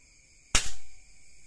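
A single sharp, snappy airsoft gunshot pop, close and loud, with a brief decaying tail afterward against a faint steady background hum.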